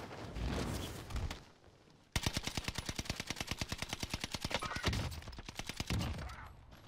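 Call of Duty Warzone gunfire: a rapid, evenly spaced automatic burst rattles on for nearly five seconds after scattered earlier shots, loud and close, then trails into quieter distant firing.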